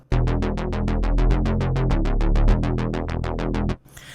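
A fast, steady synth bass arpeggio of evenly pulsing notes whose filter cutoff, modulated by an LFO, sweeps brighter and darker in a slow wobble, playing alone and ending abruptly.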